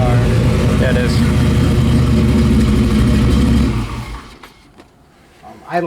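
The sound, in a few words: 1973 Camaro engine idling down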